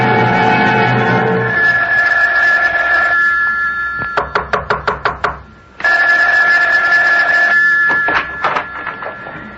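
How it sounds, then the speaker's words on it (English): Old-fashioned telephone bell ringing in repeated bursts of rapid clangs in a radio drama scene, loud and close, with a steady background hum between rings. "Isn't that your phone I hear ringing?"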